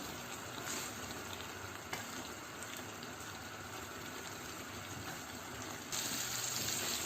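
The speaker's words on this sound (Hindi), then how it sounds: "अब इनमें मैं शामिल कर रही हूँ तकरीबन 2 गिलास तक पानी" Water pours steadily into a pan of fried chickpeas and chicken, a continuous gushing wash that holds at an even level and grows slightly louder near the end, with no talking.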